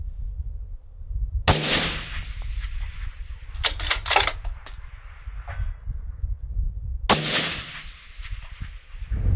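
A 6.5 PRC rifle fired at steel silhouette targets on an outdoor range, two loud, sharp shots several seconds apart, each followed by a trailing echo, with a quick cluster of metallic clicks between them.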